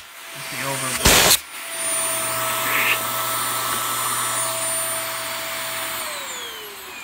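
A new Hoover Air Steerable vacuum cleaner runs with a steady, close whirring drone, broken by a brief loud burst near the start before settling into an even hum.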